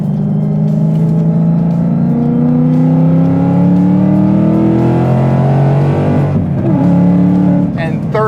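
A modified 670HP Ford Mustang track car accelerates hard, its loud engine note rising steadily through the gear, then dropping sharply at a shift before climbing again, recorded close with a voice speaking over part of it.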